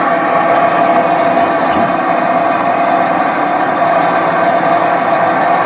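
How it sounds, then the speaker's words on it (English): An Iron Duke four-cylinder engine that leaks oil runs steadily and loudly up close, a continuous rough drone with a faint knocking, clanking character throughout and no talking. "It's knocking and clanking and making all kinds of great sounds."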